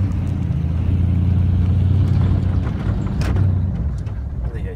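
A Ram TRX pickup circles over dusty dirt ground, its engine a steady, loud low rumble that swells briefly midway before easing off, with no voices over it.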